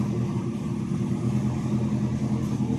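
A race car engine runs steadily after its first start-up following a cracked piston pin. It gives a loud, continuous low rumble that holds even throughout without pauses, heard close up with no talk.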